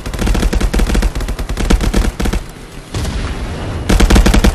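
Loud, close automatic gunfire from the shooter game Contractors comes in dense bursts, then a short lull, more rapid volleys, and a final heavy burst.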